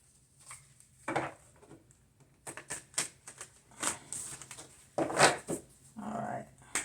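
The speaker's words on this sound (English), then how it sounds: "So I was shuffling these cards. I'm gonna shuffle a little bit more" Irregular papery riffles and soft taps of cards being shuffled by hand, close and quiet, in short bursts with pauses.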